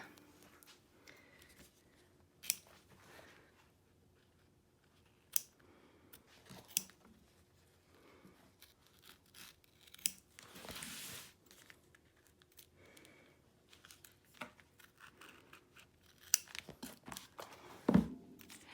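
Scissors trimming machine embroidery thread on an in-the-hoop zip bag, a run of quiet close snips and clicks scattered irregularly with light handling rustle between cuts.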